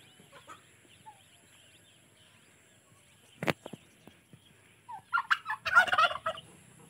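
Turkeys gobble on a farm that also keeps local chickens and ducks, with a few soft clucks first and then a loud, close burst of rapid gobbling near the end.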